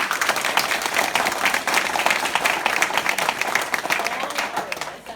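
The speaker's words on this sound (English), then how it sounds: "I would like to actually give you a round of applause" A room applauds the school committee at a Brookline meeting, a steady dense patter of many hands that holds for several seconds before starting to thin.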